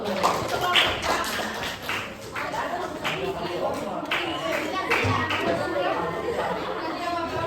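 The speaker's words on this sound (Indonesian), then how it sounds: "ya, beri tepuk tangan dulu." Applause in a classroom after a student presentation, a dense patter of clapping mixed with steady chatter and children's voices throughout.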